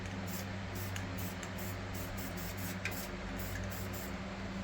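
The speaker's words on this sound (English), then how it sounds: "We got mint spray paint now." A can of mint green spray paint hisses in a series of short, fairly faint bursts over a steady low background hum, with no one talking.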